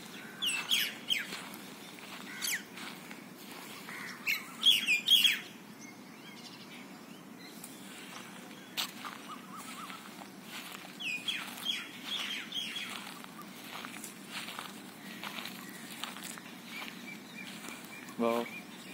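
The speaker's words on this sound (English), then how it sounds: "Those birds look really pretty, and we are going towards them." Migratory birds give scattered chirps and calls, some close and some farther off, in irregular bursts over a quiet afternoon background, with occasional faint wing flutters.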